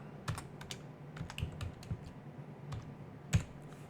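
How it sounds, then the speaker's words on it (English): A computer keyboard clatters softly as a Linux command is typed, with quick irregular key clicks spread across a few seconds in a quiet room. "I'm gonna type the command df-h."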